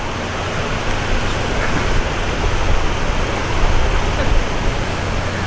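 Steady roar of the Reedy River waterfall at Falls Park, a dense, continuous rush of falling water that stays loud and even throughout with no voices over it.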